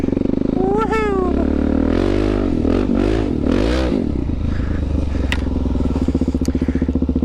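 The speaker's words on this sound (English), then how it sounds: "you gotta give the bike just a extra little rev, a little more gas than you have to" A Suzuki DRZ400 dirt bike revving hard on an off-road trail, the loud engine rising and falling through several sharp throttle bursts, with clattering and scraping from the terrain and a voice calling out over it.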